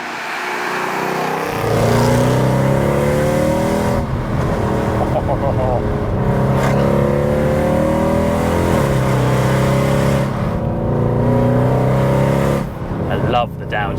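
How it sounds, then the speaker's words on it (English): A performance car's engine revs hard and downshifts, its pitch climbing and dropping again and again through a loud, continuous run of throttle blips and gear changes. "I love the downshifts. They sound great, don't they?"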